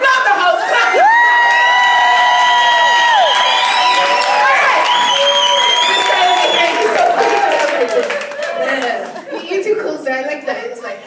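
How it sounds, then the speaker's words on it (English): A large live audience at a comedy show cheers, whoops and claps loudly and continuously, with shouts and chatter rising throughout and a few voices standing out from the crowd. "So just clap if you're here to have a really good time with me."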